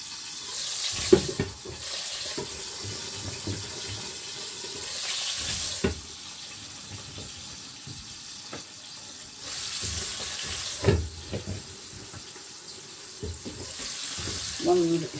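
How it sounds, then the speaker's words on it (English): Wet aubergine pieces hit hot fat and fry for an aubergine curry, with bursts of sizzling and spitting that come and go over a steady crackle, close and fairly loud. "Be careful how you add them because they are wet and the fat is hot"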